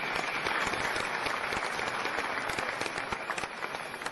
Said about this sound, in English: I think this deserves an applause.